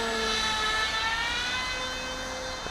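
A Tek Sumo Fly RC plane's electric motor whines under throttle, a sustained high-pitched tone with shifting pitch that holds loud and steady throughout, with no voices.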